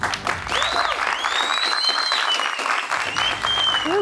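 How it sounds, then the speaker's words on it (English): A studio audience applauds guests on a leadership show, steady loud clapping from many hands, with faint electronic whistling tones sweeping over it. "Let's give them a round of applause."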